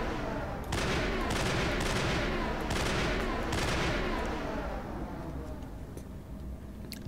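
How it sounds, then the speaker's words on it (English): Sustained bursts of rapid gunfire in the sci-fi shooter Mass Effect, aimed at a Krogan hiding behind cover; loud repeated volleys in the first few seconds, then fading into lighter scattered shots. "we're taking a few hot shots at a Krogan who's hiding behind something"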